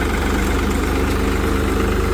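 A New Holland 3630 TX 55 hp turbo tractor engine runs steadily at around 1200 rpm in low third gear, giving a loud, even diesel throb with a regular low pulse and no voices.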